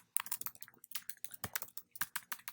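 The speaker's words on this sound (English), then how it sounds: "Look, I can't even type my own name." Rapid keystrokes on a computer keyboard while replying in a discussion board text box, a close, uneven patter of clicks with brief pauses, no talking.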